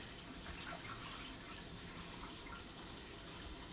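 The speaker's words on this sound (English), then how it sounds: "Gotta fill it up with a little bit more water." Tap water runs steadily into a pot on a kitchen counter while chicken thaws nearby, a quiet continuous hiss and splash with no speech.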